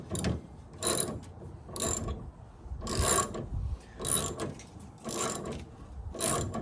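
A plastic part being tightened by hand, with repeated short ratcheting, rubbing clicks in evenly spaced bursts, close and moderately loud with no talking.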